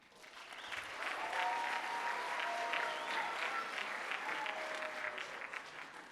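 A large audience at a school graduation ceremony applauds steadily for several seconds, a dense, sustained clatter of many hands clapping at once.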